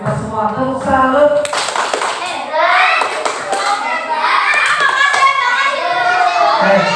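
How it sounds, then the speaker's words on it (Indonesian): Second-grade schoolchildren in a math class do the tepuk salut clapping chant, their claps and chanting voices overlapping in a lively, close-up burst that carries on through the whole stretch. "Yuk kita kasih tepuk salut buat kita semua"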